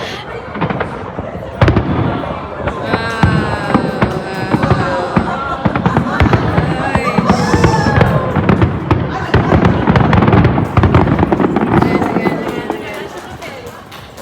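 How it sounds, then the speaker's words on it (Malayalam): A New Year fireworks display over Melbourne city, with a continuous stream of distant pops and crackling bursts under nearby crowd chatter and people talking throughout. "അങ്ങനെ ഒമ്പതരയുടെ ഫയർ വർക്ക്സ് കഴിഞ്ഞു"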